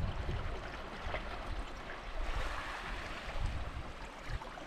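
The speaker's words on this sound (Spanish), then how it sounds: "no sabéis lo impresionante que es estar escuchando esto y a la vez el sonido del mar" Steady wash of sea surf at a black lagoon on the coast, a continuous broadband roar with gentle swells, heard alone without talk.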